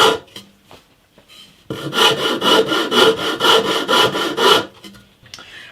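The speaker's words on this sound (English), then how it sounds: "take a bit of it off with this Shinto rasp saw" Shinto rasp saw shaping wood during a handmade bass guitar build, a few light scrapes followed by a burst of about a dozen quick, rhythmic rasping strokes, close and loud, then a faint scrape.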